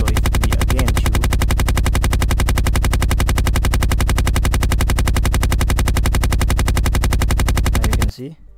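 Rapid, sustained automatic gunfire from a video game demo, a dense unbroken stream of loud shots lasting about eight seconds before cutting off abruptly.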